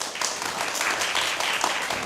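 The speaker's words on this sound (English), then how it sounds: "Let's give them another round of applause." A concert audience at a musicians' stage event gives a dense, continuous round of applause, many hands clapping together at steady volume.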